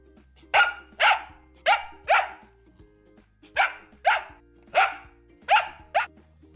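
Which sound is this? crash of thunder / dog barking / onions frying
dog barking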